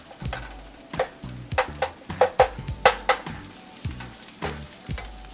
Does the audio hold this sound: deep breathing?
no